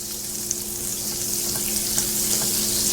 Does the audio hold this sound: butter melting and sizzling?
yes